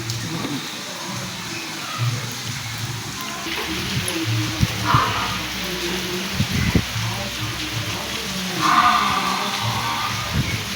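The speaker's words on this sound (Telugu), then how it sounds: "ఎంత వాన పడుతుందంటే అంత వాన. నిన్నటి నుంచి పడతానే ఉంది ఫ్రెండ్స్ ఈ వాన." Heavy rain falls during a storm, a dense, steady hiss of drops with occasional louder thumps and splashes rising over the wash of water.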